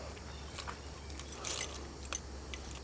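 Car keys jangling close by, a set of new keys for the car, light metallic clinks and rattles in short bursts over a low steady hum, no talking.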